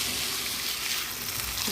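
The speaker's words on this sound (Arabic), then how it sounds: "هقعد اقلب في الرز" Washed, drained rice sizzles and crackles in hot oil in a pot while being stirred, a steady close frying hiss with no voices.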